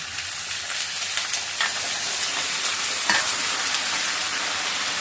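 Cauliflower hits a pan of fried potatoes and fries with a loud, steady sizzle close up, broken by a few scraping stirs and spatters.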